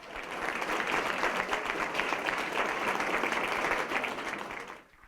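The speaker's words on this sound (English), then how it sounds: "Give all of our elected leaders a round of applause." A crowd at the 10th Annual PJ Day event gives its elected leaders a round of applause, a steady, even wash of clapping that holds for several seconds before tapering off at the end.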